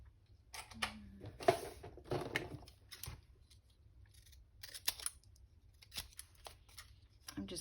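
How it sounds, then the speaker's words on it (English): Scissors snip through paper for a journal folio project, a series of close, crisp cuts in irregular bursts with short pauses between them, set against a quiet room. "So I just take these scissors and just randomly cut it"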